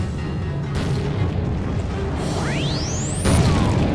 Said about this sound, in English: All I'll do is I'll throw a flashbang out.